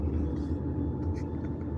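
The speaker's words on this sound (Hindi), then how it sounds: "हम टैक्सी में मैक्सिमम 10 to 15 मिनट्स में पहुंच जाते हैं" Steady engine drone and road rumble inside a taxi on a sunny morning drive in China, a continuous low hum with faint passing noises and no talk.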